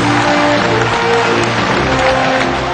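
Steady applause from a large audience at a prime ministerial swearing-in ceremony at Rashtrapati Bhavan, a dense continuous clatter of clapping that holds at an even level with a low background hum underneath.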